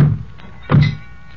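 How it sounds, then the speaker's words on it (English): Heavy truck doors slam shut in a dark hideaway, two solid thunks about half a second apart, the second louder and fuller, with a faint rumble between them. "Slam the doors."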